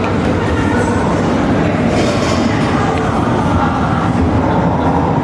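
A remote-controlled toy train runs along its track with a steady, close rattling rumble that holds unbroken throughout, with no voices.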